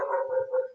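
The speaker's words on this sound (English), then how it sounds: "you hear my dogs" Household dogs howl and whine in a sustained, wavering cry that rises and falls twice, fairly close and loud, with nothing else over it.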